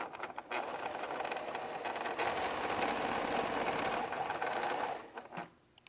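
A sewing machine stitches a quarter-inch seam along the raw edge of a quilt piece in one continuous close whirring run of about five seconds, then stops.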